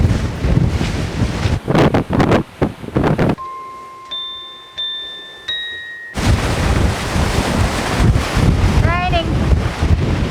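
Strong wind of about 15 knots buffets the microphone in loud gusts with rushing water aboard a sailboat near the Bahamas, broken by a brief calmer stretch where a few electronic beeps sound.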